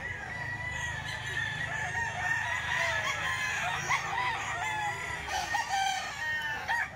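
Roosters crowing at a market, several drawn-out calls overlapping at moderate distance, with clucking fowl and faint chatter in the background.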